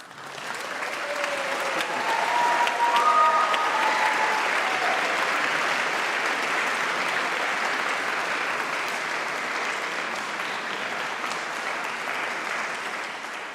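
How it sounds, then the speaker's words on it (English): A graduation congregation audience breaks into sustained applause and cheering, a dense wash of clapping that swells over the first few seconds with a few whoops, then holds steady for a long stretch. "give a huge round of applause and a huge cheer to everyone who has made this possible for you"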